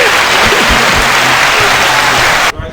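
Dense, loud applause from an audience at a live podcast event with barber battle host 360 Jeezy, steady and close, with scattered voices beneath, cutting off abruptly near the end.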